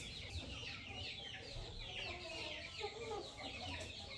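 Chickens cluck and chatter continuously at a moderate distance, a busy flock with overlapping calls and no voices.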